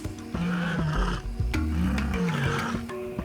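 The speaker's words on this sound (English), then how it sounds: "A big cat's ability to roar." A big cat roars in deep, rumbling bursts, close and loud, with grunting breaths between the drawn-out calls.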